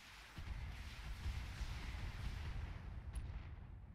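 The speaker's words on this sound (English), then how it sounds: "Only one of those missiles missed." Missile barrage striking mechs in the BattleTech video game, a dense continuous rumble of overlapping impacts and explosions at steady loudness, with a brief sharper crack near the end.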